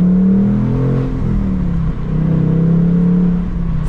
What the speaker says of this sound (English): Factory exhaust, track mode.